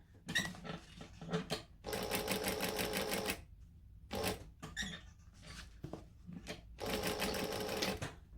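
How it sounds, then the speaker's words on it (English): Sewing machine stitching a box pattern on a crossbody bag, running in three loud, steady bursts of rapid mechanical whirring with short pauses and small clicks between. "we're just going to go back to a joining stitch and stitch the box,"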